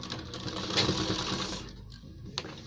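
A sewing machine runs steadily while stitching the seams of a ladies' full-collar kurta, its close, continuous whir easing off after about a second and a half, ending with a brief clack.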